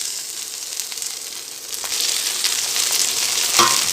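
Fresh mint leaves added to a pan of onion, garlic, chilli and coconut for mint thuvaiyal, sizzling and sautéing steadily with a hiss that grows fuller partway through, close and alone.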